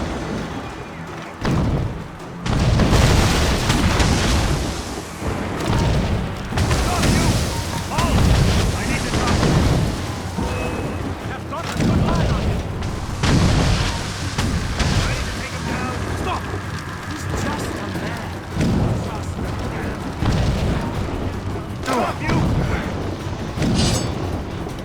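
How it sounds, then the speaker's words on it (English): Mortar fire in Assassin's Creed Rogue: heavy booms and rumbling blasts repeat every second or two across a dense, wind-like roar of sea and battle noise, loud and continuous throughout. "Chevalier is using mortars to stop Shay."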